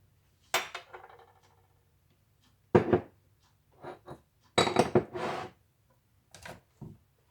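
No-bake cheesecake mixture beaten with sugar in a bowl, giving short separate bursts of clinking and scraping with quiet pauses between them, close and fairly soft.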